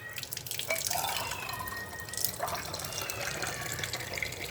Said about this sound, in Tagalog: Tapos lagyan natin ng tubig tong dalawang lata.